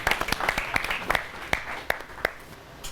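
Sparse applause from an audience at a Holi festival programme welcoming a guest doctor to the stage, a handful of separate sharp claps, fairly faint, with a few voices underneath.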